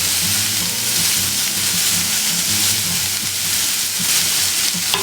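Steady, loud sizzling in a pan as mushrooms, carrots and asparagus are stirred with garlic and oregano, a continuous frying hiss with faint scraping and no talk.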